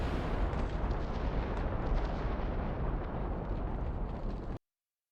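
An off-map artillery strike lands in Company of Heroes 3, a continuous loud rumbling roar of explosions lasting several seconds before cutting off abruptly.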